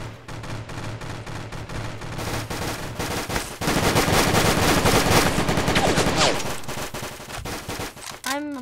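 Heavy gunfire in a Roblox shooter match: rapid automatic bursts and single shots crowd together, growing denser and louder midway, with speech faintly mixed under the shooting.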